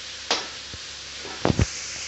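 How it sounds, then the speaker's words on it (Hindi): Masala paste frying in a pan for a pointed gourd sabzi, giving a steady low sizzle with a few louder scraping or stirring bursts near the end. "मसाला हमारा भून रहा है, 3 मिनट तक इसको अच्छे से भुनेंगे।"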